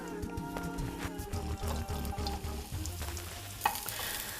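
Mushrooms frying in olive oil in a pan, with continuous close sizzling and crackling alongside stirring and scraping sounds, moderately loud, with no voices.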